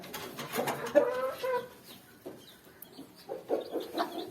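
Chickens in a new backyard coop, including a black hen with white speckles, cluck and call in short bursts nearby, with a quieter stretch between the louder clucking at the start and end.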